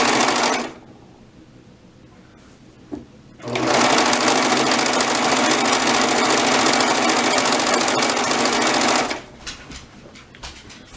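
A sewing machine stitches a waistband on a refashioned garment: a quiet pause, then a loud, continuous mechanical whir running for about six seconds before stopping, with faint handling noise before and after.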